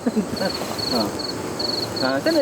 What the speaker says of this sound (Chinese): 现在叫那是蟋蟀哈